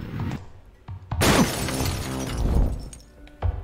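Glass floor squares shatter in the video game Fear Effect: one loud, sudden crash bursts out and its broken-glass debris rattles and settles over the next couple of seconds, with softer thuds before and after.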